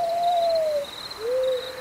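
An owl hooting sound effect: two clear, drawn-out hoots, the first longer, separated by a short pause over a faint hiss.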